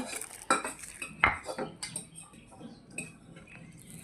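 Small potatoes being mashed with salt into bhorta in a bowl: irregular clinks and scrapes of a utensil against the dish, a few sharp knocks among softer rubbing, close and fairly quiet.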